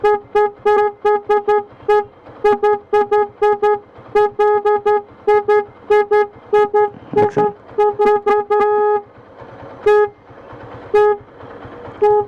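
A digital hydraulic motorbike horn with 18 sounds blasts loud, close electronic tones in rapid repeating bursts, cycling through several honking patterns with short gaps, no talking.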